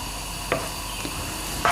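Finely chopped medium onion sizzling in oil in a pan, a steady close frying hiss with a few brief stirring scrapes on top.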